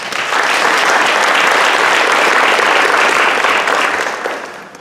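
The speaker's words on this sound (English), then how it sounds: "So would you please give them a round of applause?" Loud, sustained applause at a conference for the essay readers, a full crowd clapping steadily for several seconds before tapering off.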